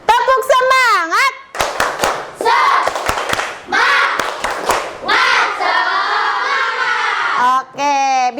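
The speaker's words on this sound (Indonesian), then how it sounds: "Tepuk semangat." A classroom group does a rhythmic spirit clap, sharp bursts of hand claps in quick patterned sequences, mixed with children's voices and lively chatter close by, loud throughout.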